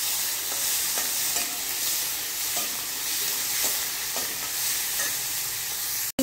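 Tomatoes with salt and turmeric sauté in a pan, a constant bright sizzle broken by regular scrapes of a spoon stirring about once a second, ending in a sharp clatter.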